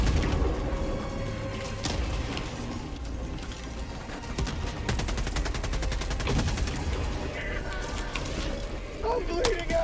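Gunfire in a video game, a dense, continuous barrage of rapid automatic shots and clattering mechanical noise filling the whole stretch, with in-game sound effects layered over the shooting.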